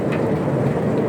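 Hail falls in a dense, continuous patter, its rapid irregular impacts striking a surface close by at a steady loud level, with no one speaking.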